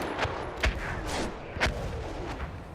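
Artillery bombardment in the Battlefield 1 video game, with several booming impacts and blasts spaced irregularly over a few seconds against a rumbling battlefield background, moderately loud and somewhat distant.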